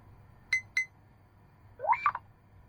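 Nothing Phone 2a notification tone, two short bright pings followed by a brief warbling chirpy flourish, clean and close over a quiet background.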